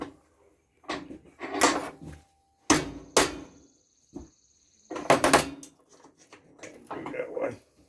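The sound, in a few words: breaking plastic off an old hair dryer in a vise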